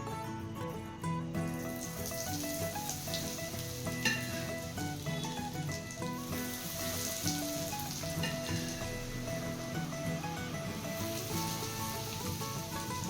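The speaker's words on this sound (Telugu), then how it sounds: "నేను ఇంకొక హాఫ్ లీటర్ ఆయిల్ అనేది వేడి చేశానండి ఈ పచ్చళ్ళలో ఇంకొక హాఫ్ లీటర్ వేసుకుంటున్నాను" Heated peanut oil goes into a fenugreek mango pickle with a steady, even sizzle that runs the whole time without pause, fairly quiet and with no voices.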